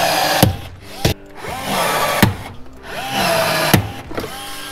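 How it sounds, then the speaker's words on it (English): A handheld rivet tool fastens a custom switch panel box onto a boat, giving sharp, snapping pops at irregular intervals between short whirring tool bursts, close and fairly loud, with no talking. "it is time to officially rivet this box into place"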